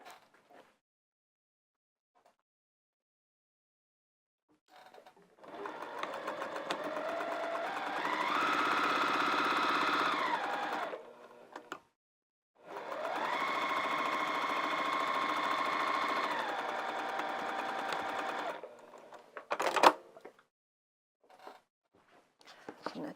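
Home sewing machine stitching the seams of a small fabric dog kerchief, running in two long steady bursts of about five and six seconds with a pause between, rising and settling in speed, close and alone.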